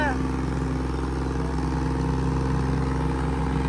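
A tractor engine runs at a steady, loud, low rumble throughout during a tractor power show, with a constant drone and no change in pitch. A voice can be heard faintly under the engine.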